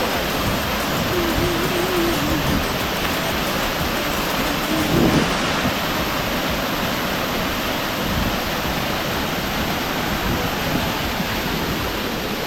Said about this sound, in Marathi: आता हा मी धबधबा तुम्हाला दाखवतो.